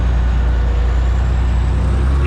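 A log truck's diesel engine drones loud and steady, recorded from close by or inside the cab, a constant heavy rumble with no voices.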